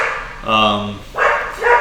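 Neighbor's dogs barking in the background, a sustained harmonic bark-howl followed by a couple of shorter barks, fairly close and loud, with talk around them.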